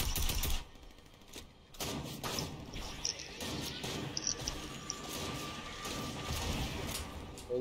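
Gunfire in the video game Fortnite, with rapid bursts of shots and clattering game effects running throughout, mixed under voices of players talking.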